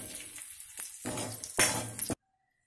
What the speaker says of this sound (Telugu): పోపు దినుసులు, ఎండుమిరపకాయ, కరివేపాకు, ఆవాలు, జీలకర్ర అన్నీ వేసాను.